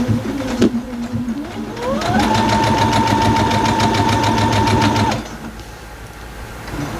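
A sewing machine stitching a quilt block, starting with a click, then running at a steady fast whir for about three seconds before stopping, loud and close.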